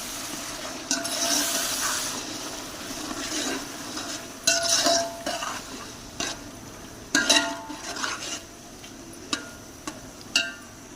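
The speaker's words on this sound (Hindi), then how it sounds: "तो मसाले को मज़ीद हम 2 मिनट तक भूनते हैं।" Spice masala with half a kilo of tomatoes being fried and stirred in a pot for a black chickpea pulao; a soft sizzle runs underneath while a spoon scrapes and clatters against the pot in irregular bursts.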